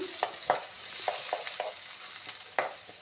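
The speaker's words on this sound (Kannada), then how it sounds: "ಈಗ ಹೆಚ್ಚಿಟ್ಟಂಥ ಉಳ್ಳಾಗಡ್ಡೆಯನ್ನು ಹಾಕ್ತಾಯಿದ್ದೀನಿ ರೀ ಎಲ್ಲ ಉಳ್ಳಾಗಡ್ಡಿ ಹಾಕಿ ಚೆನ್ನಾಗಿ ಫ್ರೈ ಮಾಡಿಕೊಳ್ಳಿರಿ" Chopped onions fry in hot oil with cumin while being stirred in a pan for a spicy vegetable dish, giving a steady soft sizzle broken by several sharp scraping stir strokes.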